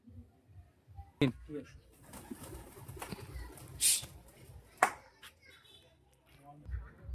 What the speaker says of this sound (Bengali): দেখুন দাদা পায়রা গুলো ছেড়েছে দাদা পায়রা আপাতত উড়ছে